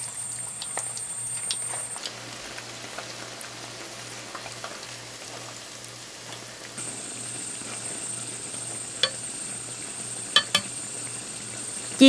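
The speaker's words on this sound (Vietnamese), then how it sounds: "cho dầu vào chảo và đợi dầu nóng thì mình cho thịt gà vào chiên giòn nha" Chicken pieces fry in hot oil in a pan for Thai-style lemongrass chili fish sauce chicken, a steady fine crackling sizzle with scattered sharper pops, close by under a low constant hum and faint high whine.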